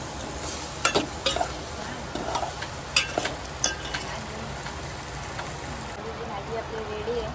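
Potatoes stirred and fried with ground masala in a pan, giving a steady sizzle with scattered scraping clicks from the spoon. Speech is faintly present underneath.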